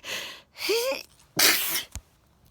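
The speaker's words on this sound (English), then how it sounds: "I was sneezing." A single sharp sneeze bursts out after a couple of short breathy sounds, close and clear, followed by a brief sniff.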